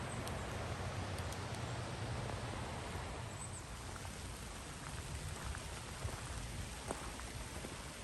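Steady rain falling outdoors, a dense continuous hiss of drops with a few sharper pattering hits, fairly faint and unbroken, with no voices.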